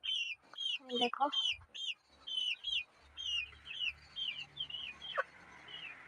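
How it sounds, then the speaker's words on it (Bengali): Chickens feeding in a yard, with repeated short chirps and clucks in bursts throughout, fairly close, and a brief spoken word near the start. "দেখো মুরগিগুলো এখানে খাচ্ছে, আবার দুটো মুরগি এখানে।"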